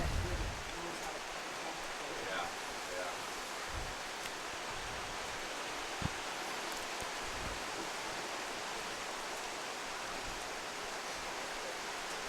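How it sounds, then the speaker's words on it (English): Torrential tropical downpour at an outdoor stadium during a girls' high school soccer game, a steady dense hiss of heavy rain throughout with faint thuds underneath. "a torrential tropical downpour here at Glacier Peak Stadium here tonight"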